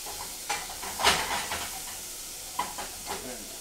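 Bacon frying in a hot pot, a continuous soft sizzle and hiss with scattered crackles and stirring clatter, fairly close and moderately quiet.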